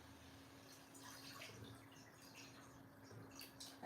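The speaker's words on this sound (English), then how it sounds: "Now I'm going in with some water." Water pours from a tap or jug into a cooking pot on a gas stove, a faint steady splashing trickle with a constant low hum beneath.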